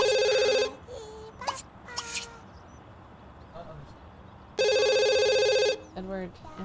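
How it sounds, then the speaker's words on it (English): A telephone rings in loud electronic bursts, one long burst at the start and another later, with chatter and short voiced sounds from people between the rings. "answer the phone"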